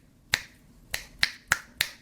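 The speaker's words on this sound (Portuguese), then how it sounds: "Isso é um estalar de dedos" Five sharp, crisp finger snaps ring out alone and close, the first standing apart and the rest following at a brisk, slightly uneven pace against a quiet background.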